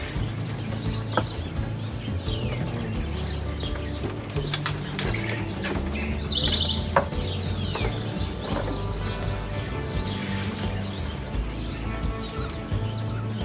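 High, thin chirps from baby quail come in scattered bursts over mechanical rattles and background clatter, with no speech.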